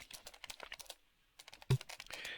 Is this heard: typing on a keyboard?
yes